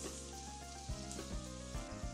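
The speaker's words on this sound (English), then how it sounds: "Did you hear that sizzle? That's a good sizzle." Chicken thigh laid skin down in a hot skillet, a close, steady sizzle and crackle with a few soft thumps and pops over the hiss.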